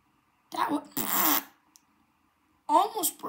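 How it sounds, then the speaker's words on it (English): Fart sounds during a blooper take on a kids' TV set: two or three loud, close, buzzy bursts, with a brief spluttering noise between them and a short gap before the last. "Who farted?"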